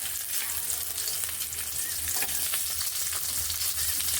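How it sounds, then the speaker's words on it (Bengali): Garlic cloves frying in hot oil in a pan, used for a Bengali lata fish bharta, a continuous crackling sizzle with occasional stirring scrapes and no talk. "রসুনগুলোকে ভেজে নিচ্ছি"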